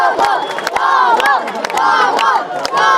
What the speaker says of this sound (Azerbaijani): Kapitan alqışlar sədasında meydanı tərk edir.